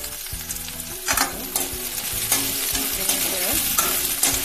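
Slit green chilies and bay leaves fry in hot oil with a dense, loud crackling sizzle, stirred with several scraping strokes of a spoon against the pan, close up and with no voices.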